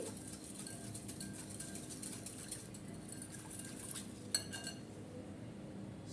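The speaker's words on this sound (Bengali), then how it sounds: "চিনি দিয়ে দিলাম আর ইস্ট দিয়ে দিলাম হাফ টেবিল চামচ আমি এটা ভালো করে মিক্স করে নিচ্ছি" Sugar and yeast being mixed in a bowl, heard as soft, quiet clinks and scrapes of a spoon against the bowl, with a brighter clink near the end.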